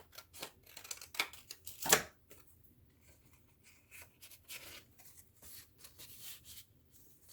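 Scissors trim paper for a junk journal, with a few close, crisp snips and rustling paper handling, followed by quieter shuffling and light rubbing.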